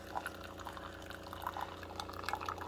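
Coffee streams from a Keurig K-Classic single-serve K-Cup brewer into a cup, a steady, close liquid pour with light trickling and dripping over a low machine hum, no talking.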